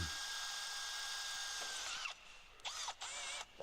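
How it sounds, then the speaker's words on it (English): A power drill bores into an engine sump, whirring steadily and close, then bogging and revving in short bursts as the bit bites and pulls off near the end. "So I'm just trying to drill out the sump."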